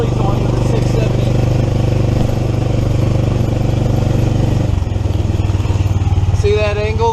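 Small 420cc Predator engine on a 1982 three-wheel EZ-GO golf cart, fully enclosed, labouring up a hill over logs with a steady loud drone, a brief dip near the end, and a voice talking over it.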